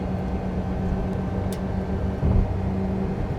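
A Mitsubishi Pajero Mini's small engine drones steadily under acceleration at highway speed while overtaking a truck, with a continuous cabin hum and a brief swell of rumble near the end.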